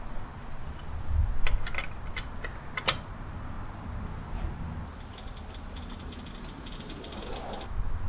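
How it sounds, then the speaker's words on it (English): A wrench loosens the lug nuts on a car wheel before the car is jacked up, giving a few sharp ratcheting clicks and metallic clanks early on, then quieter shuffling against a low background rumble. "Loosen the lugs now before I raise it up."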